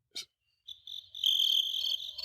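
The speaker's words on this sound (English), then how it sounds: "Crickets." A crickets chirping sound effect played from a handheld device held up to a microphone: a short tick, then a continuous high, buzzy chirp trill lasting about two seconds, close and fairly quiet.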